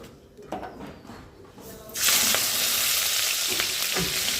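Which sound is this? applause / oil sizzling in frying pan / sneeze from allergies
oil sizzling in frying pan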